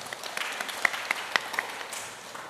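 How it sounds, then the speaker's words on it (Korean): Applause for a professor at a citizens' culture camp, a fairly faint, scattered round of clapping from a modest audience, with a few louder individual claps popping out over a soft background. "수고해 주신 우리 임동욱 교수님께 다시 한번 박수 부탁드리겠습니다"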